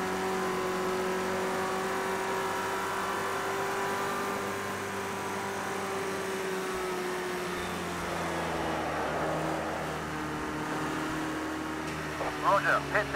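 A 1971 Ford Escort RS1600 engine in the Project Cars 2 racing game on a Scotland track, droning steadily at a held pitch that sags and shifts as the car runs, loud and continuous with a voice talking over it.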